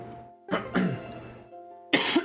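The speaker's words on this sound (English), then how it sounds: "my voice just wants to cough right as I go live" A live streamer coughs and clears their throat a few times in short bursts, close to the microphone.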